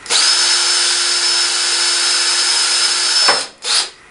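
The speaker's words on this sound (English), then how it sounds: "for these 1/8 rivets, I'm using a 9/64 drill bit to drill the holes" A power drill fitted with a 9/64 bit bores rivet holes for 1/8 rivets in a round colony trap, a steady loud whine for about three seconds before stopping, then a short second burst.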